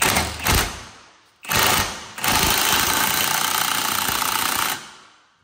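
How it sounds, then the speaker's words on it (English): Impact wrench rattling bolts down on a Can-Am X3 turbo build in a workshop, a couple of short bursts followed by one long sustained loud hammering run, close and alone. "we'll run this down with an impact"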